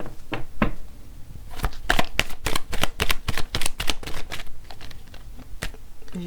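Cards are shuffled and handled during a tarot-style reading, a rapid series of crisp flicks and riffles in bursts, close and fairly loud with no talking.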